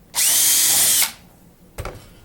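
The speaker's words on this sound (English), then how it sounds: "I'll drill the top hole" A power drill bores a hole through a Bearhawk aircraft spar, a loud steady whine of just under a second that cuts off sharply, followed by a brief clunk as the bit withdraws, with no talking.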